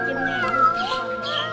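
A kitten out of the house for the first time, excited, gives a drawn-out, wavering meow, close and fairly loud.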